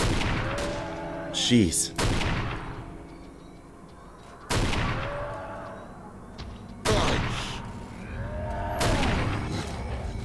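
Gunfire from a weapon in the video game Stalker: Call of Pripyat, several loud, sharp bursts spaced a couple of seconds apart, each with a ringing tail, while a man briefly reacts aloud.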